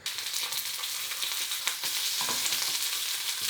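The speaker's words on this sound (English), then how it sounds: "Now we're just going to get the pan hot and mark the other calamari real quick." Calamari sear in a hot pan with a loud, close, bright sizzle that holds steady throughout, with a few sharper crackles.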